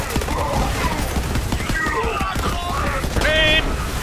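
Grenade blasts and gunfire from a Borderlands 3 firefight, a dense run of loud bursts and crashes across the span, mixed with game voices and electronic tones.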